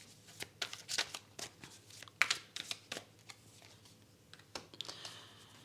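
Tarot cards handled and laid over one another on a table, a quick series of soft close clicks, slaps and shuffling taps in an irregular rhythm, with no talk.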